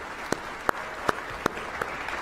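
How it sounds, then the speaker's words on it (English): Scattered audience claps at a sports awards ceremony, a handful of sharp, isolated hand claps spaced roughly every third of a second, moderately close and fading toward the end rather than building into full applause. "I'm going to clap for that if y'all don't help me."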